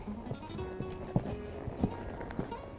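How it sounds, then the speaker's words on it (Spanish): A horse walking at a steady pace during a riding exercise, hooves clip-clopping in an even rhythm of distinct, moderately close thuds over low background noise. "Y otra vez el caballo sigue andando."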